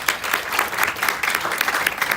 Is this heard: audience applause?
yes